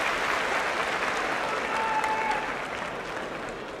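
Applause from a sumo crowd at Fukuoka Kokusai Center, a dense, sustained roar of clapping filling the arena, strong at first and easing slightly toward the end.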